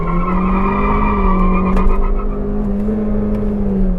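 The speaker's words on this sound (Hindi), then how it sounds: "What a massive wheel spin" A 2021 Maruti Suzuki Vitara Brezza SUV holds a loud, high engine rev while its tyres spin and squeal on a loose surface, the pitch sagging slightly and then climbing again.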